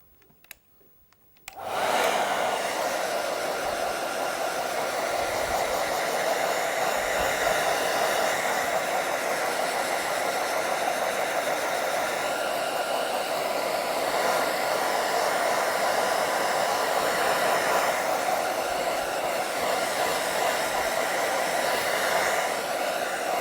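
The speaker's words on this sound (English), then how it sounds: "Maybe I'll use the hairdryer now." A hair dryer used to dry a watercolour painting switches on after a brief quiet moment and then runs with a steady, loud whooshing hum that continues unbroken.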